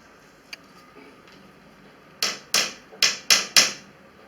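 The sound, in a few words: hammering tacks into frame of homemade mosquito net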